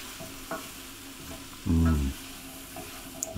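Sage sizzles in hot oil in a pan, a soft steady hiss close by. Light stirring scrapes and one brief, heavier knock of the pan break through it midway.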